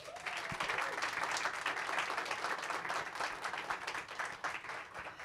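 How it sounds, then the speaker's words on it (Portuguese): A crowd applauds steadily, dense clapping that holds at full strength for several seconds. "Você pode aplaudir?"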